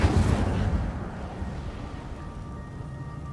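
A fire spell cast in the video game Hogwarts Legacy gives a single loud whoosh-like burst that fades into a rumbling tail over a few seconds, with no voices.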